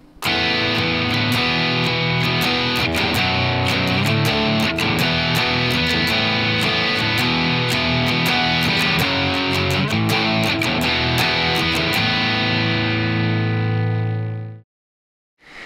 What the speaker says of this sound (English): And then we kick on the distortion to play the last chorus.